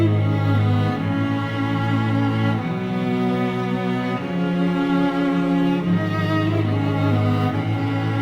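A sampled passage from a song, rich sustained harmonic music with layered tones, playing continuously and moderately loud with gentle shifts in the chords every couple of seconds.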